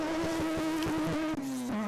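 A Group B Mazda RX-7 rally car at a forest rallysprint revs hard, its high, buzzing rotary engine note holding steady with rapid pulses before dipping slightly near the end, loud and close.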